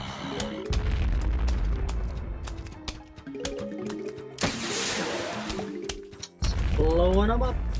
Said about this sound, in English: When you get explosions like this, you get lots of money for killing multiple zombies at the same time.